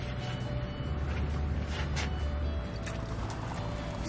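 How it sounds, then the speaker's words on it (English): Freshly sown cucumber seeds being watered in a garden, a continuous splashing, trickling flow of water that runs steadily and close by without pause. "I'm gonna give them a water now."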